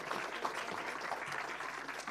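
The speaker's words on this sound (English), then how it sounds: "a round of applause for the panellists" An audience at a data and privacy summit applauds the panellists with dense, even clapping that stays steady throughout the short burst.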